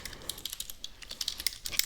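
Fast, uneven keystrokes on a computer keyboard while coding in Roblox Studio, crisp close clicks arriving in quick bursts with no voice over them.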